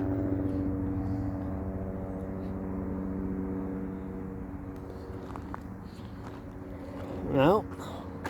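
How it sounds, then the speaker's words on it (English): A steady, droning engine hum with a low rotor-like throb holds throughout, fairly distant, with a brief rising whoosh near the end. "Can hear that helicopter still, Lisa."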